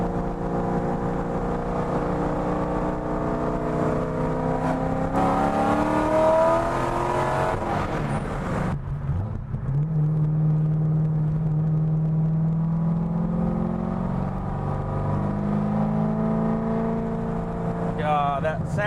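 Cammed C6 Corvette V8 heard from inside while driving, a steady rumbling engine note that climbs and falls through revs with a crisp edge, staying loud throughout and briefly dropping to a lower, steadier drone midway.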